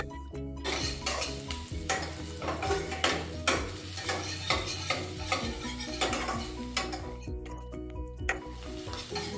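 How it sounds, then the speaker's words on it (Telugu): Ginger and garlic fry in a pan for Chennai-style Chicken 65, a loud close sizzle broken by frequent scraping and clinking of a metal spatula against the pan, with no voices. "ఇవి దోరగా వేయించుదాం"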